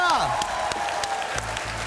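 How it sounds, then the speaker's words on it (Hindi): Brief burst of studio audience applause on an Indian comedy show, clapping that rises and fades quickly beneath a voice. "Thank you, तालियां।"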